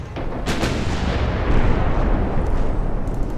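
Shell hit and explosion on a warship in the naval battle game Ultimate Admiral Dreadnoughts: a booming impact with sharp bursts and a rolling low rumble, loud and close, with a further crack near the end.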